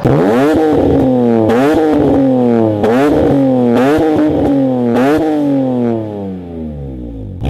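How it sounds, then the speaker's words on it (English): Loud engines from a pack of cars in a BMW Compact Cup racing game at Brands Hatch rise and fall through repeated upshifts and revving sweeps, with scraping clatter mixed in, and the roar drops near the end. "listen to these amazing beautiful racing noises"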